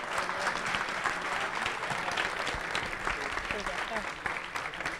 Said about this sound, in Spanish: Ahí está un fortísimo aplauso para el equipo de bule bule.